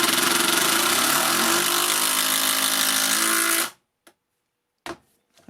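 A Makita 12V brushless impact driver sinks a 65mm screw, a loud, steady, buzzing hammering that runs for several seconds before stopping abruptly, followed by a few faint clicks and small knocks.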